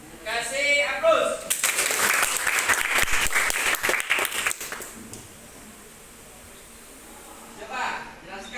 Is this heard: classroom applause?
yes